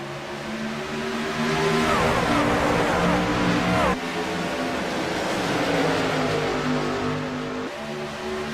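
Racing trucks accelerate at Atlanta Motor Speedway as the green flag drops, a loud sustained engine roar with rising and shifting pitch, close and continuous throughout.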